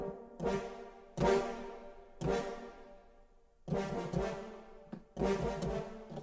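Sustained French horn chords from a sample library, recorded at the Newman stage, swell and fade in five separate phrases, each rich and full, with short pauses between them, no voices present.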